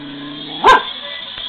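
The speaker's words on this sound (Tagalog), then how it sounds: "Tinatahulan ako ng aso nyo." A single short, sharp dog bark sounds close by in a home setting, followed by quiet background hum and a faint later tap.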